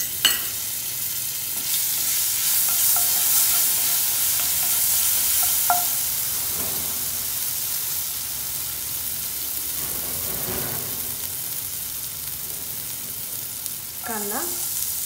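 Ginger garlic paste frying and being stirred in a pan over a slow flame, for Republic Day tricolour pulao: a steady soft sizzle throughout, with occasional scraping of a spoon against the pan, no talk.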